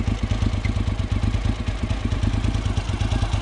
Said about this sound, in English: you're going to hit the power button, let the bike warm up